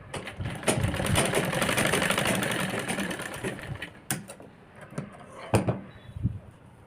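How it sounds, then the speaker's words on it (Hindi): A sewing machine whirs steadily while stitching the side seam of a girl's crop top, then stops, and a few sharp clicks and knocks follow in the quieter stretch. "हम पहले एक की साइड से सिलाई लगाएंगे"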